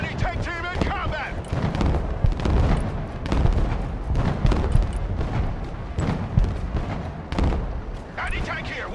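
Dense combat din from the Broken Arrow battlefield: steady rattling gunfire and repeated booming explosions, loud and continuous throughout, with radio-style voices talking over the fighting.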